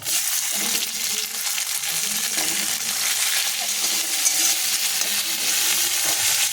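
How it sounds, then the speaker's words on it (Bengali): Garlic sizzling in a pan as tomato and two green chillies go in, a bright crackling fry with occasional stirring scrapes and clinks, fairly close and steady with no talking. "রসুনটা প্রায় হয়ে এসেছে এইবার আমি দিয়ে দেব টমেটো আর দুটো কাঁচা লঙ্কা"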